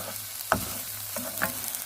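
Chicken rice ingredients sauté in a hot pan, a continuous sizzle broken by two sharp clatters of a utensil stirring and scraping against the pan; no voices.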